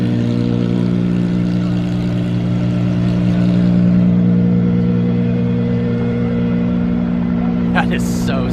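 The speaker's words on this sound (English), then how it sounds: "Now that sounds incredible at idle." A V12 supercar idles with a deep, steady, loud hum made of layered low tones, then a brief sharper burst near the end.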